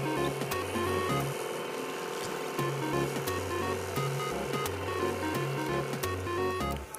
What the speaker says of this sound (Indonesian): kita nyalakan kompor induksi.